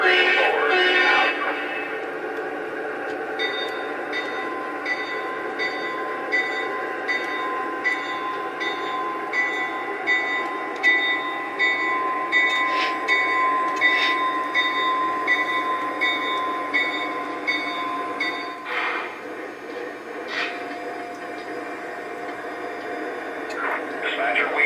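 Locomotive engines rumble steadily as they pull onto the main line, with radio chatter and voices over the continuous train noise and occasional higher squeals and clanks.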